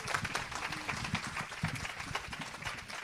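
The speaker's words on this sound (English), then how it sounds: "let's give Michelle a big round of applause" Faint applause from a small audience at a startup founder event, scattered claps blending into a soft wash that holds for a few seconds.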